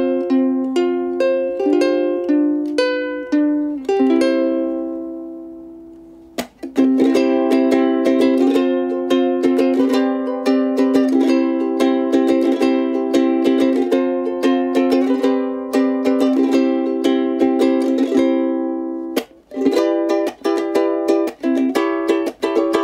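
A ukulele plays a solo melody up close for a ¥5,000 versus ¥150,000 instrument comparison. Bright plucked notes ring clearly, with a short opening phrase, a brief pause, then a steady rhythmic passage. No talking.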